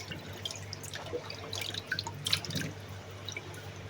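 Raw fish being rinsed in water two or three times, with soft splashing and dripping sounds running through the clip at close range over a low steady hum, alone without talk.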